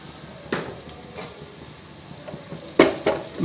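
Coriander powder stirred in a pan while making crab curry, a faint sizzle broken by a few sharp metallic clinks of the spoon against the pan, louder toward the end.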